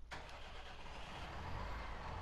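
A medium tractor engine in Farming Simulator 19 cranks and catches with a sharp onset, then settles into a steady, low, rumbling idle heard alone and close.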